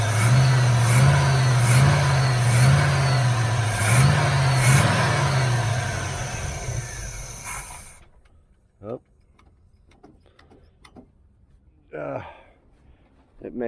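A 1981 Camaro Z28 engine revs and accelerates loudly in rising and falling surges, then cuts out, leaving quiet stretches with a few brief sounds and voices nearby.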